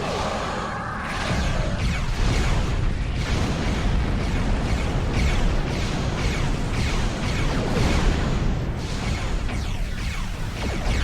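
Starship weapons fire and explosions rumble in Star Trek Online, with a dense, loud roar of blasts and booms layered over one another almost continuously.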